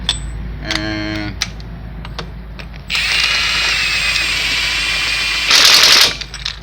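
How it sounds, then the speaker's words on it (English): Ratchet and impact tool work tightens the wheel lug nuts on a Ford Econoline E350, with short rapid ratchet clicks followed by loud sustained buzzing runs of the tool, up close. "Let me tighten them all up on 80."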